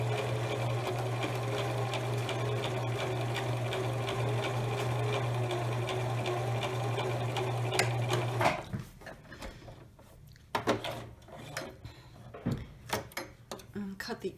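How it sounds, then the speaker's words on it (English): A sewing machine runs in a steady, fast mechanical whir as it back stitches fabric for an eyeglass pouch, then stops, followed by scattered clicks and handling knocks up close. "I'm going to lower the needle, and I am going to back stitch"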